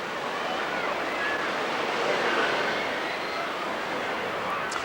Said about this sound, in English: Quite a busy beach.